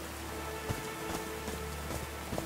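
Rain falling in the Call of the Sea video game, a steady soft patter of drops with a few slightly louder splashes, heard alone at a moderate level.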